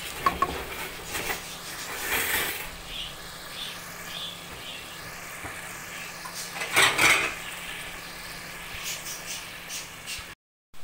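Half-boiled potatoes stir-fried in a pan for aloo gosht, with repeated scraping and clinking of a spoon against metal, a few louder clatters and a faint sizzle underneath, close by and with no talk.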